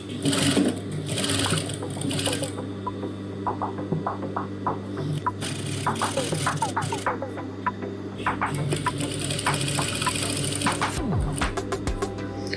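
Domestic sewing machine stitching a wrap dress seam from pin to pin, a loud close continuous motor buzz with rapid needle clatter, briefly pausing and restarting, no voices.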